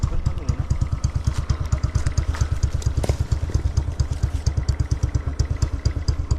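A motorcycle engine idling close by, a loud, fast, even chugging pulse with a mechanical clatter that holds steady for the whole stretch, no voices.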